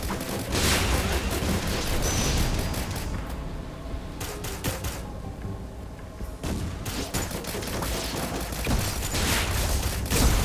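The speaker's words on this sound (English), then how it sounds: "What's that explosion in the background?" Explosions and gunfire in the video game Risk of Rain Returns crackle densely in a constant barrage of booms and rapid shots, loud and continuous with brief lulls.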